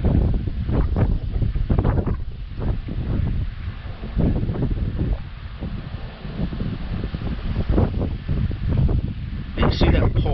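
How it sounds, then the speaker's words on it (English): Strong gusty wind buffets the microphone outdoors beside a car being checked for its rear park assist sensors, a loud continuous roar with rumbling bursts throughout. "it's probably going to pick up a lot of wind noise"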